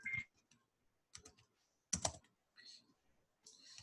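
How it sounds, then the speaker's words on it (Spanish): Typing on a computer keyboard comes through as short bursts of sharp key clicks separated by brief pauses, close and fairly quiet, with no voice over them. "estoy peleándome con este teclado."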